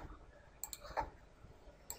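A computer mouse double-clicks faintly and close by in a quiet room, with a few other light clicks scattered around it.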